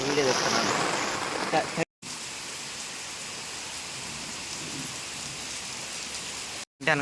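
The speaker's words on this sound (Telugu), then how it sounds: "ఓ పక్క ఎండ ఓ పక్క వర్షం" Steady rain pours down during a sunshower, with rain falling on one side while the sun shines, making a loud, continuous hiss and patter close by, broken briefly twice by short cuts.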